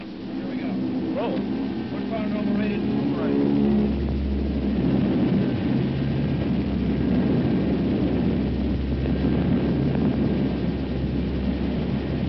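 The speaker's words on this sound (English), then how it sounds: "At the start of a patrol, during takeoff, the four throttles are held wide open" Four-turboprop P-3 Orion on its takeoff run with all throttles wide open, a loud, steady roar and low rumble building and holding, with someone narrating over it.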